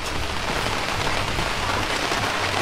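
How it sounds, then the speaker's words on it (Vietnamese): Steady rain pours outside in a dense, even roar of drops on surfaces, close and continuous throughout, with no one speaking. "Ngoài trời giấc này thì mưa"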